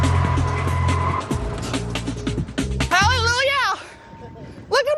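A car on a driving course braking hard and skidding, with engine noise and a voice at first, then a loud wavering tire squeal, and more talk over it.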